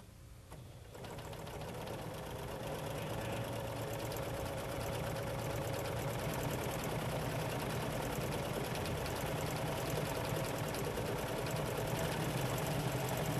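Husqvarna Viking Huskylock 936 serger sewing custom piping: a dense, steady, fast mechanical whir and chatter that starts after a brief moment and runs continuously at close range, with no talking.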